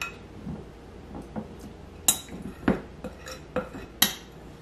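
A spoon scoops chocolate mousse from a dish, making soft scrapes and a handful of light clinks and taps against the container at uneven intervals, quiet and close with no talking.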